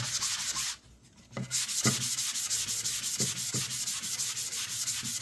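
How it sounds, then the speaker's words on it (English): Rough sandpaper rasping back and forth on a wooden table leg in steady strokes, close up, with a brief pause partway through. "You can hear the sandpaper will be really rough, and it'll get a smooth sound to it"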